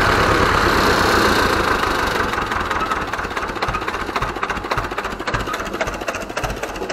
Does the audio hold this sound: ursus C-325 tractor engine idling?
yes